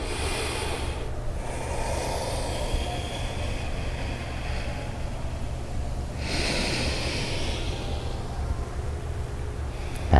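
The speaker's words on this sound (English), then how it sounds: "you're going to breathe with kindness, deepen the stretch as you exhale" Slow, deep breathing during a gentle yoga stretch, close to the mic: long airy exhales and inhales repeat in an unhurried rhythm, with a steady low hum underneath and no talking.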